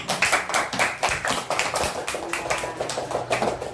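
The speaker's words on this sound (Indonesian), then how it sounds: "Silakan Ibu tepuk tangan untuk kelompok 3" A classroom of students claps in a loose rhythmic pattern for a group after its presentation, bursts of hand claps pulsing in repeated beats, close and lively, with no talk over them.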